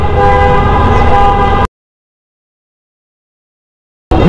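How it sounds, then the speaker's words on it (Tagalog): A loud horn blares on a busy street near a Fazzio 125 scooter, one long continuous honk that cuts off abruptly, followed by silence and then a second blast starting at the end. "Ikaw yung bumubusina?"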